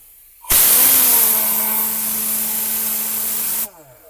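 A Tornador Z-062 air cleaning gun blasts a loud, steady hiss of compressed air inside a 2007 Volvo FH13 truck cab, starting abruptly and holding constant for about three seconds before cutting off, with a faint tonal hum underneath.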